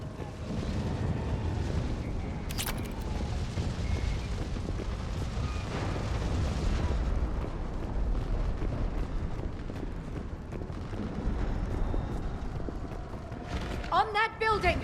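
Explosions from incoming fire support roll through a Mass Effect 3 battle as a dense, sustained low rumble of blasts, with a sharp crack early on and voices calling out over the din.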